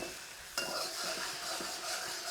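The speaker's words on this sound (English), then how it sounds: "You start sort of frying your egg as normal" Eggs fry and are stirred in a pan for scrambled eggs: a steady soft sizzle with a sharper scrape of stirring partway through, close and alone.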